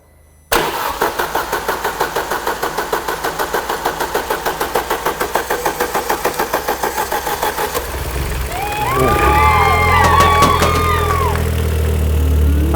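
Vauxhall Nova VXR engine cranking with a rapid rhythmic starter chug for several seconds, then catching and settling into a loud, close idle with a slight rev and some squealing, no talk.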